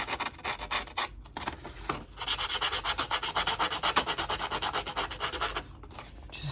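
Paper edges being distressed by scraping them with the serrated blade of small Tim Holtz haberdashery scissors, a close, continuous rasping rub in quick back-and-forth strokes with a brief pause near the two-second mark.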